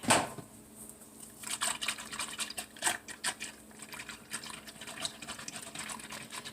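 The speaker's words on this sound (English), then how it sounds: "So, I'm going to go ahead and mix that up with a whisk." A whisk beats a mixture inside an electric pressure cooker pot, giving quick irregular clinks and wet swishes up close, with a louder knock at the start and no talking.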